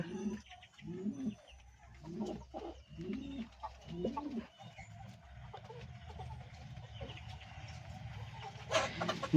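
Black lakka pigeons coo in a series of low, rhythmic, throaty calls nearby, then fade into a quieter murmur of birds with soft background noise.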